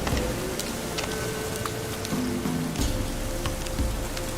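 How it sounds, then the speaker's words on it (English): Steady rain falls in The Witcher 3, a dense, even patter of drops on surfaces with occasional sharper ticks, continuous and moderately loud throughout with no voices. "Looks like rain."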